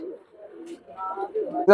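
Belgian racer pigeons coo softly in short, broken murmurs close by, with a voice briefly speaking and a louder burst at the end.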